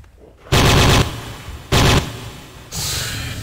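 Heavy gunfire from a weapon in Jurassic Park: Trespasser, two loud, sustained bursts roughly a second each, followed by a lower, steady rumble.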